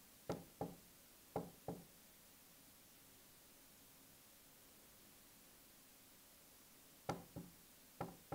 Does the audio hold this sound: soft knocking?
yes